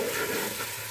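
Ginger garlic paste frying with softened onions in a pan for chicken do pyaza, a faint, even sizzle through a short moment, ending with a quick soft knock.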